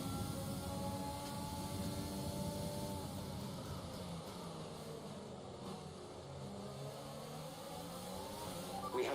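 A train of about seven F1 cars running nose to tail in F1 2020 at the USA race, a steady engine drone with rising and falling gear whines layered together, fairly distant and even throughout.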